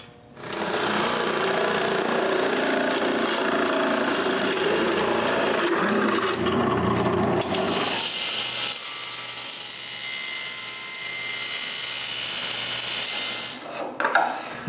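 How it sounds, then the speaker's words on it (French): Wood is drilled and then sawn to cut a slot for a shaft while building a wooden bandsaw in a woodworking shop: a loud, steady machine whir that changes character about halfway through, running continuously with no talk. "je perce puis je coupe pour faire une fente"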